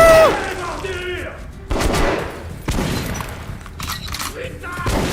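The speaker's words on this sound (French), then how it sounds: "on va finir la game gros au fusil à pompe" Shotgun fire in the video game Metro Last Light Redux, several sharp loud blasts spaced a second or so apart, each followed by a brief rumble, with people talking and shouting in between.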